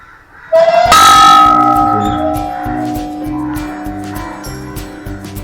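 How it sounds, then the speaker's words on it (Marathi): A single temple bell at the old Wagheshwar temple near Pawna is struck once, loud and near, its bright metallic tone ringing out and slowly fading over several seconds. "इथे घंटा पण आहे"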